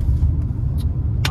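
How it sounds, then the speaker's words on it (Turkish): A Hyundai i20 rolls over potholes, giving a steady low interior rumble of engine and road noise, close and continuous, with a few faint clicks and brief voice fragments. "Ya bak şu çukurlara giriyorum, arabada çıt yok ya."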